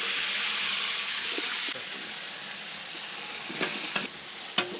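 Ginger-garlic paste fries in ghee for a peacock biryani, giving a continuous close sizzle while it is stirred, with a few sharp scrapes and clinks near the end.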